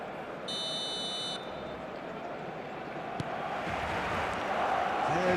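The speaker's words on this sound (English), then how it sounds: "There's the whistle." An eFootball referee whistle gives a short, shrill, steady blast near the start, over a loud, continuous stadium crowd roar that swells toward the end.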